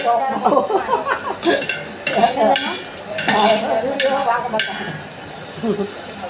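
Curry leaves sauté in a pan until golden, with a loud close sizzle and repeated scraping stirs of a utensil against the metal, alongside a voice speaking intermittently.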